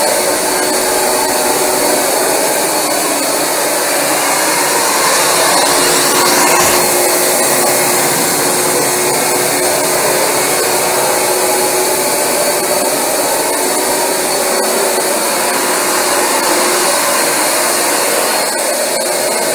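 Rug Doctor carpet cleaning machine running steadily and loudly close by, a continuous broadband motor and suction roar with a faint whine, no voices.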